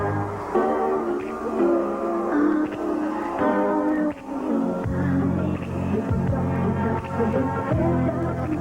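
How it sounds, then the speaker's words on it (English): Billy Jack Haynes' new entrance theme plays through an arena's speakers at a 1985 Portland wrestling show, a steady musical track with a slightly thin, broadcast-recorded tone. "What you're hearing is the new theme song for Billy Jack Haynes."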